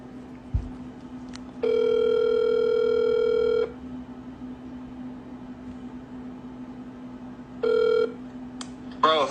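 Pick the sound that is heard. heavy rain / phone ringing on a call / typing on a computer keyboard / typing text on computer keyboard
phone ringing on a call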